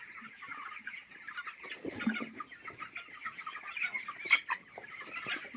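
Chickens cluck steadily in a poultry farm shed, a dense flock of 21-day-old birds chattering continuously at moderate volume, with a few sharper calls standing out near the end.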